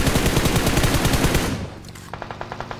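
Rapid automatic gunfire from players shooting while driving in a competitive scrim match, a loud dense burst for about a second and a half, then fading to quieter distant shots in a steady rhythm.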